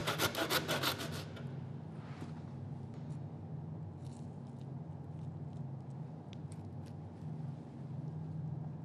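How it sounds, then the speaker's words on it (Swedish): A saw cuts through pork ribs during butchering of a pig carcass. It makes steady, close rasping strokes over a low background hum, and a few louder scraping bursts open the sawing. "Sågar sedan av revbenen."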